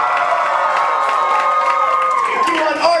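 A live improv comedy audience cheers and whoops together, a steady, loud wash of crowd noise with excited shouts rising above it throughout.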